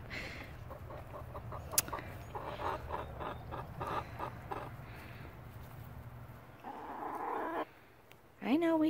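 Backyard hens cluck in short repeated bursts in a sunny spring chicken yard, one especially loud bird among them, with steady outdoor background noise and a brief louder squawk near the end.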